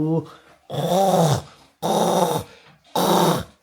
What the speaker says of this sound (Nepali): ऊ यस्तै गरी घुर्छ के त्यही भएर चाहिँ म सुत्न सकिनँ